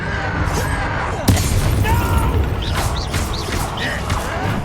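A Bombarda spell bursts with a sudden booming crack mid-fight in Hogwarts Legacy, one loud hit over dense battle noise, swooshing effects and a voice.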